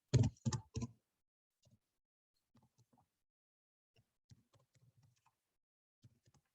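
Computer keyboard typing while writing LaTeX, three loud close keystroke bursts at the start followed by sparse, faint scattered key taps.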